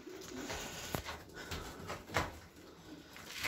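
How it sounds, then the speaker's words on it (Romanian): Pigeons cooing inside a loft, soft and murmuring over a steady rustling background, with a few sharper clicks and flutters. "Aici sunt porumbei"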